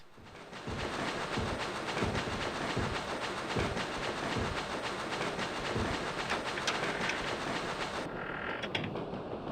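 A train rolls along in the Echo Night video game, a steady mechanical rumble with regular clickety-clack beats and creaking carriages, moderately loud and unbroken, with no talking.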